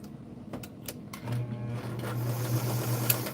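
A White zigzag sewing machine, Model 782, stitching. A steady mechanical whir starts after a few faint clicks and runs to the end, moderately loud and close, with no talking.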